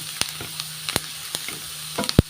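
Ingredients for a Sinjari-style fish dish sizzle steadily in a hot frying pan, a continuous close frying hiss broken by a few sharp clicks and taps of stirring, with one louder knock near the end.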